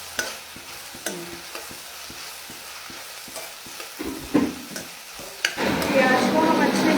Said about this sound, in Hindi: प्याज को हम अच्छे से भूनेंगे